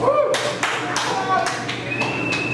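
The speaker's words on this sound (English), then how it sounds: "It's a weird point for applause break" Scattered audience claps at a comedy show, a handful of separate sharp hand claps spaced out across a couple of seconds, fairly close, with a voice talking over them.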